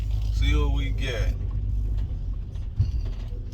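A Nissan Murano transmission clunks and grinds as it is shifted into gear, with a low rumble and a mechanical creak, while a person talks over it.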